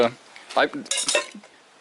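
Camping pots, pans and cutlery from a survival bag clink and clatter together in a few quick metallic knocks and rattles, close by, with no speech.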